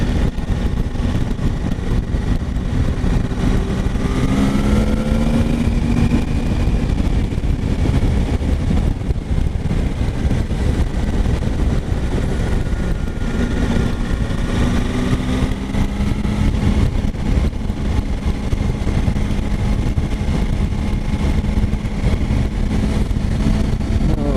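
A 2019 Triumph Tiger 800 XR motorcycle engine hums steadily while riding, a continuous loud drone with wind rush and slight pitch rises as revs change, heard alone without talk.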